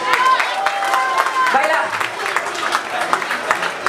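Guests at a media night event for a record company applaud themselves, a dense burst of close clapping that runs throughout, with people talking over it.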